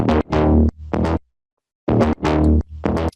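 Deep house bass line with the Waves Renaissance Bass plugin switched off, sounding thin: three short phrases of sustained bass notes, a gap of silence, then three more phrases, played alone.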